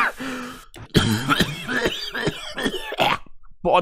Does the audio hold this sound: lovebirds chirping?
no